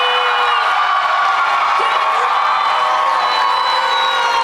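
A large convention crowd at a panel for the K-Pop Demon Hunters voice cast cheers loudly and steadily, a dense roar of shouts and whoops that holds for the whole stretch, close and overwhelming.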